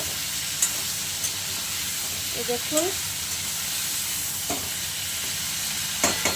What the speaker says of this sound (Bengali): কপিগুলো ভালো করে ভাজা হলে তারপরে আস্তে আস্তে মশলা দেবো।